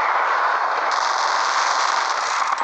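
Rapid gunship gunfire pours down in Zombie Gunship: Survival, a dense, continuous loud rattling burst lasting the whole stretch, with no talk.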